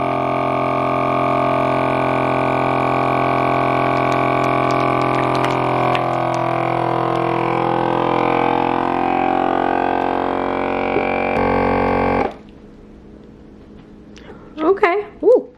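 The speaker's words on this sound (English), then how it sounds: "Vacuum seal." A vacuum sealer machine's steady motor hum runs for about twelve seconds while sealing a food bag, then stops abruptly, leaving quiet with a few faint clicks.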